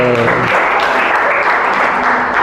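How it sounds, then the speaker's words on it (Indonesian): A class of students applauds during an Islamic studies lesson on inheritance, with steady, dense clapping close by throughout. "Tepuk tangan dulu, tepuk tangan"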